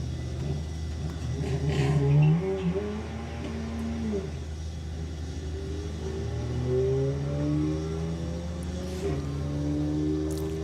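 Drag racing car at Santa Pod during Sportsman Nationals eliminations, launching off the line with wheel spin: a loud sustained engine roar with rising revving tones, heavy low rumble throughout, two distinct acceleration sweeps.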